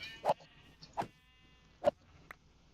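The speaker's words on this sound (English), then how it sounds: "there's some sheep right there" Sheep bleat in a video game, three short, clear bleats spaced irregularly, with a fainter fourth call near the end over a quiet background.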